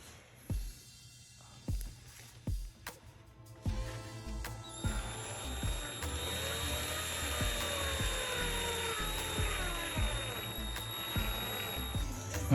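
A power drill bores a hole into a car bumper during a lip install on a 2017 GLI, with a few short bursts at first, then a steady whining drill run lasting several seconds, close and fairly quiet.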